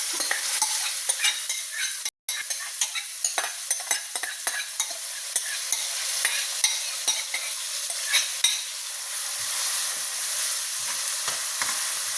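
Onions frying with curry leaves in a pan, a continuous bright sizzle broken by frequent sharp scrapes and taps of a stirring spoon, close and alone with no talking.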